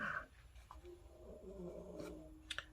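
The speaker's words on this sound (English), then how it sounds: "My dog is snoring." A small chihuahua snoring softly nearby, its breaths coming out as low, rumbling growls, faint and steady with a slight rasp.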